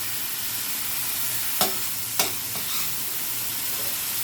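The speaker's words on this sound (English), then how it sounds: "Again, you're going to continue stirring. You don't want this to burn." Ham fried rice being stirred in a pan, a steady close sizzle broken by two sharp scrapes of the utensil against the pan and a few softer stirs.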